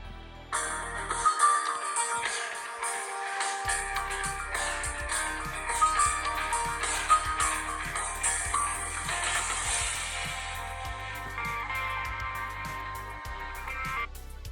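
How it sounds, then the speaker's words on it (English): A ringtone on a Samsung Galaxy S4 plays alone for about fourteen seconds, a bright, steady melodic tune with a bass line entering after a short pause, moderately loud and continuous. "That is my favorite ringtone of all time"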